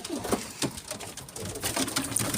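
Pigeons flock overhead in the open, with soft cooing and fluttering that stay moderately loud and steady throughout a short stretch, and no voices.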